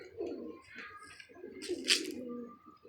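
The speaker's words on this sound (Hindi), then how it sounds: "और कबूतरों की दौड़े देखे" Pigeons at a rooftop loft coo softly close by, low throaty murmurs rising and falling, with a brief flutter or chirp in the middle and a faint voice in the background.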